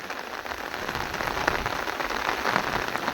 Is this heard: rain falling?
yes